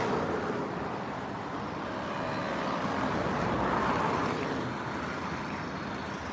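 Steady traffic noise rolls along a city street in Irkutsk, a continuous low rumble of passing cars and trucks, fairly close and swelling slightly as vehicles go by.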